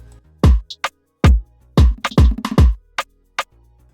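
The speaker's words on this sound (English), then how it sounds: "Then next we have a conga roll." Hand drum hits in a quick roll: several deep, resonant conga strikes with a few sharper slaps, loud and close, no voices.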